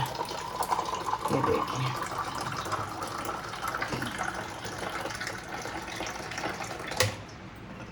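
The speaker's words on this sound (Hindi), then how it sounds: "तो जी चलो जी निकाल लेते हैं पानी और इसमें भरती हूँ" Cool water is poured from a clay pot into a glass in hot Jaipur weather, a steady trickling fill running for several seconds, with someone speaking briefly over it, ending in a short clink.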